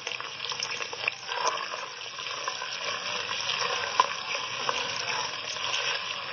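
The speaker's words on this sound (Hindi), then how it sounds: "उसमें जाएगी प्याज। इस तरह प्याज जल्दी से फ्राई हो जाती है।" Onions fry in hot oil for a mixed vegetable sabzi, making a dense, even crackling sizzle that carries on steadily at moderate loudness, with a few brief clicks and no talking.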